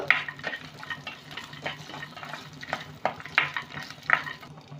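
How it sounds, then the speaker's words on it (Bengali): Cashews and raisins fry in a pan for a vegetarian shahi paneer, giving a steady soft sizzle with light stirring scrapes throughout, close and moderately quiet, no talking. "কাজুগুলোকে একটু আমি ভেজে নেব কিশমিশ নিয়েছি একটু সামান্য নেড়ে নেব"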